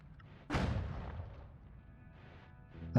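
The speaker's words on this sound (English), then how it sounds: "As long as the explosions impact anyway." A spell explosion bursts in a wand-casting video game, with one sharp booming blast that decays over about a second, then a fainter rumble and a second hit at the end.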